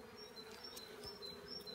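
Honeybees buzz continuously at a new hive in an apiary during spring hive cleaning, a faint, steady drone with individual bees whirring past close by.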